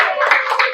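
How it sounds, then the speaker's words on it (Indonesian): A brief burst of classroom clapping for a student group during an Islamic education lesson, a few hands patting quickly and close by, fading after under a second. "tepuk tangan untuk Asopa"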